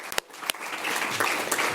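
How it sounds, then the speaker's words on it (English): A seminar audience gives brief applause for the speakers on Nordic development aid, a few sharp claps opening into a short, moderately loud burst of clapping. "Let's give a round of applause to all our speakers."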